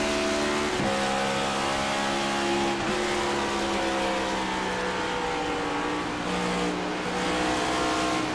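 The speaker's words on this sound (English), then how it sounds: "lift off the throttle there. You can hear it on the recording." A race car engine in an oval racing video game at Nashville Superspeedway drones steadily with other cars around it, its pitch dropping briefly a couple of times as the throttle lifts off.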